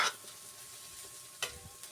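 Onion, garlic and bell pepper fry together in a pan, a quiet steady sizzle with a couple of short scraping stirs, one at the start and another partway through.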